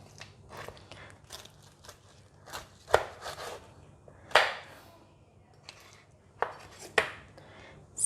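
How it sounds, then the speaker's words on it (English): A knife chops through crispy air-fryer roast pork belly on a board, a series of sharp crunching cuts and hard thuds at irregular intervals, close and distinct with near silence between strokes. "See, the inside of the pork is nicely cooked. Now we're going to cut it. It's very crispy."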